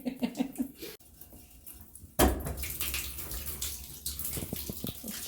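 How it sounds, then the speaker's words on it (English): Water gushes from a tap into a sink during a home inspection, with a short lull before a strong burst of splashing flow and gurgling drainage that continues to the end. "Let's see if it can hold water and drain."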